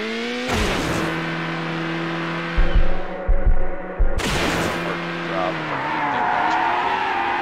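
A Gen 2 Dodge Viper GTS in the racing game Need for Speed Hot Pursuit 2 holds a loud, droning engine note, broken by a burst of tire squeals and skids midway before the engine climbs again.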